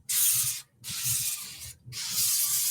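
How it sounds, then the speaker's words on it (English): Cooking spray hisses onto cabbage in three loud, close bursts, each about half a second to a second long, with short gaps between them. "So I'm going to spray my cabbage."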